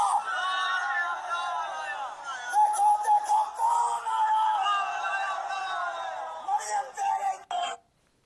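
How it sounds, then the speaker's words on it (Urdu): Rally crowd at a PMLN jalsa with Maryam Nawaz on stage, chanting political slogans in unison, loud rhythmic group shouts rising and falling over about eight seconds before cutting off abruptly. "یہ جی نعرے لگ رہے ہیں مریم نواز کے بالکل سامنے"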